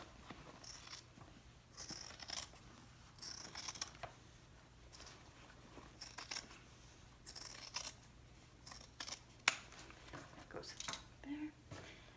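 Scissors snip through handbag lining fabric to trim the seam allowance. The cuts come as quiet, intermittent snips close to the microphone, with pauses and a few faint handling sounds between them.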